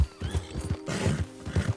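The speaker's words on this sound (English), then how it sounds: "Well, that was a deep neigh." A deep horse neigh in Red Dead Redemption, a loud, close whinny mixed with rhythmic hoof clip-clops, with no talk over it.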